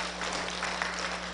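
A church congregation claps at a Korean worship service honouring a choir, with steady applause filling the room and no voices over it.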